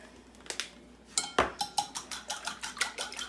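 A fork beats eggs and pepper in a bowl for spaetzle, making a quick rhythmic run of light clinks and taps against the bowl, close and fairly faint, with no talking.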